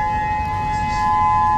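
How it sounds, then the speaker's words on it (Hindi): A tsunami warning siren sounds in Japan, a loud, steady sustained tone held without a break across the whole short stretch. "ये सायरन भी बज रहा है अलग अलग जगहों पर।"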